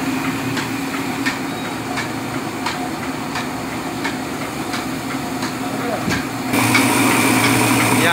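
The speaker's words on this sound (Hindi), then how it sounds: "यहां ऊपर गेहूं को इसमें डालते हैं, फिर गेहूं एक छोटे से छेद से चक्की के अंदर जाता है" Wheat being ground in an electric flour mill (atta chakki), a steady loud mechanical drone with a regular rhythmic knocking, growing louder and brighter near the end.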